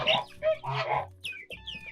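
Young Amrox and Livenskaya chintz chicks give short clucks and thin high peeps, a few quick close calls in a row with brief gaps between them.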